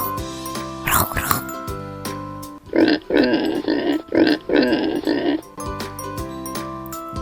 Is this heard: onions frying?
no